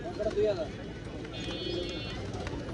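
Pigeons at the Tongi pigeon market give a couple of short, soft coos near the start, set against market bustle and indistinct voices.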